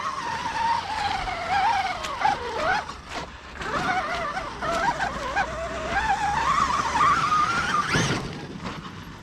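Vehicle wheels spinning and bogging down in mud in a video game, with a sustained revving engine whine that rises and dips and a sharp burst near the end.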